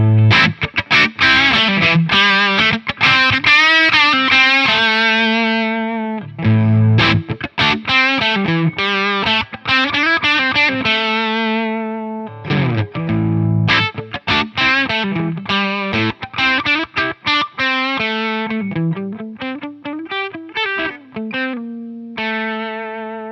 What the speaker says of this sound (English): It's like an overdrive, but fuzz. It's a really pushed amp sound.